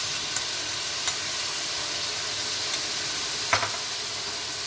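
Chicken karahi simmering and sizzling in a pan after half a kilo of tomatoes and a bowl of yogurt go in, a steady close hiss with a few faint knocks and clicks and no voices.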